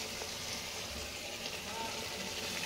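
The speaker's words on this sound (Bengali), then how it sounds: "সসের বাটিটা ধুয়ে আরেকটু জল দিয়ে দিচ্ছি" Water poured into a pan of frying lentil fritters in chilli sauce, giving a steady, hissing sizzle that stays even throughout.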